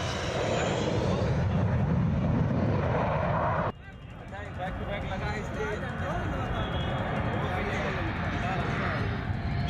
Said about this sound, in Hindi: यहाँ पर एयरफोर्स के विमान लैंड करना शुरू हो गए हैं पूर्वांचल एक्सप्रेसवे पर